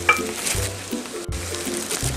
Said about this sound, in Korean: 지글지글 하고 있죠? 튀김이 되는 것처럼 그래야 바삭해요.